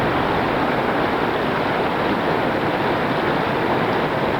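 The Tuolumne River rushes past near a bridge along the trail to Glen Aulin, a loud, constant broadband roar of flowing water that stays steady and close throughout, with no voices.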